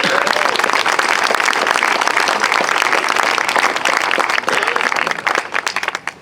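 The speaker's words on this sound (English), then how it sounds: "Please give him a round of applause." Audience applause at an outdoor statue dedication ceremony for Elmer Flick, a dense, loud wash of many hands clapping that carries steadily, then thins and tapers off in the final second.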